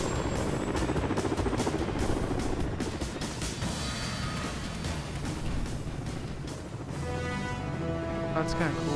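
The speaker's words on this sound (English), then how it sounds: "Alright, it's helicopter time." A video game helicopter in Disney Infinity 2.0, its rotor thumping rapidly and steadily with engine roar, a dense mechanical drone lasting throughout, with a voice faintly audible underneath.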